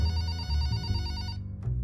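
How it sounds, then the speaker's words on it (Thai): A cartoon telephone rings with a bright, continuous electronic bell trill, loud and close, then cuts off abruptly near the end. "อย่าบอกนะหรือว่า มันดังอีกแล้ว โทรศัพท์"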